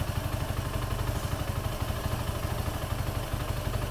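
A Suzuki Gixxer 250 motorcycle engine runs steadily after its fourth service, a close, even idle with a low rhythmic pulse and light mechanical clatter, with no speech.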